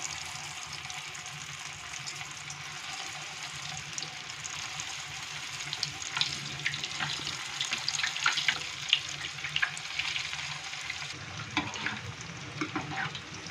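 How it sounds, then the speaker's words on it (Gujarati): Cheese balls deep-frying in oil over a medium flame give a steady, close bubbling sizzle with scattered crackles and pops that grow busier toward the end. No voices. "ધીરે ધીરે મીડિયમ ફ્લેમ પર આપણે તેને તળવા દેવાના છે."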